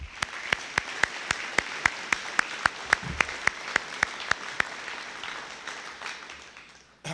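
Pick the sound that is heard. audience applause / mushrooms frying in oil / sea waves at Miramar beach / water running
audience applause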